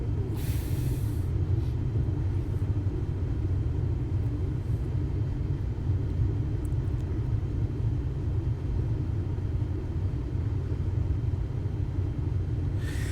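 An aircraft taxis in Microsoft Flight Simulator 2024, a steady low engine rumble and hiss holding evenly throughout with no talk.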